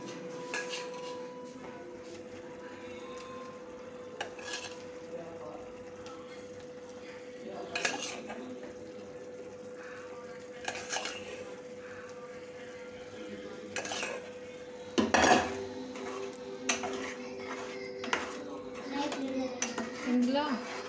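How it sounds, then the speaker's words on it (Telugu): Fried paneer is tipped into a curry pan and stirred, with a spoon scraping and clinking against the metal pan in bursts and a low simmer underneath, while a person talks intermittently. "వేపుకున్న పన్నీరు ఇప్పుడు ఇందులో వేసుకోవాలి."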